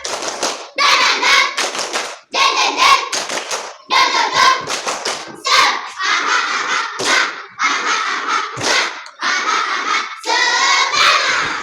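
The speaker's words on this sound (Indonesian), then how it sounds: "Tepuk semangat." A school class does a rhythmic spirit clap, bursts of sharp clapping in short patterned phrases separated by brief gaps, with children's voices chanting along between and over the claps.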